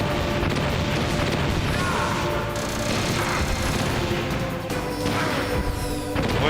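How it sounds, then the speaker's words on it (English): Missiles launch and explode in a video game, a loud, dense run of booms, crashes and rumbling blasts that continues without a break. "fire the missiles"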